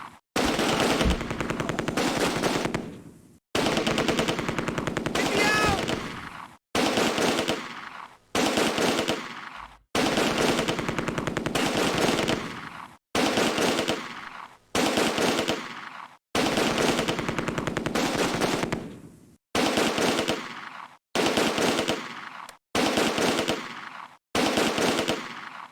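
Machine gun fire in the WWII strategy game Close Combat: long sustained bursts of rapid automatic fire, loud and close, separated by short silent gaps.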